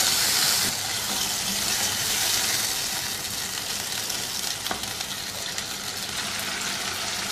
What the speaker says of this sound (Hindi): अब इसमें शामिल कर देना है 2 खाने के चम्मच दही के। अच्छी तरह से मिक्स कर देंगे।